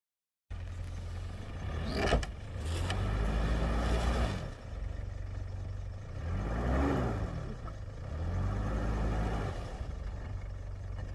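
Jeeps driving on a snowy mountain track in Iceland's Þingvallafjöll area in December, giving a steady, fairly close engine rumble that swells and eases in several broad waves.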